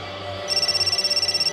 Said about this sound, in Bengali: আরে রকির আবার ফোন বাজছে।